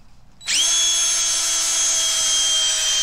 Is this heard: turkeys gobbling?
no